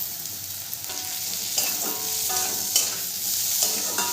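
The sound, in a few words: chopped tomato stirred into frying ghugni masala in pan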